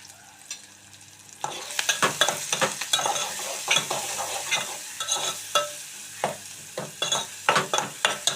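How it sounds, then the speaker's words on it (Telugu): Sliced onions fry with salt in a pan for a potato-tomato curry, a steady close sizzle broken by frequent scraping spatula strokes that grow busier after the first second and a half, with no talking. "ఉల్లిపాయలు అయితే చక్కగా వేగుతున్నాయండి."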